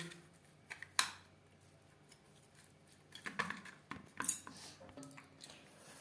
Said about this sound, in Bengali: বেশ ভালো করে মাছের সাথে মিক্সড করে দেব।